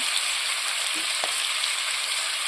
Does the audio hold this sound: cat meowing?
no